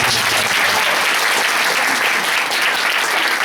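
A large audience applauds loudly and continuously at a closing ceremony, dense sustained clapping with no voices over it.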